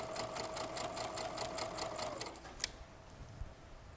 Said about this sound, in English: I'm going to put it in my sewing machine, bring down my foot, and I'm going to sew.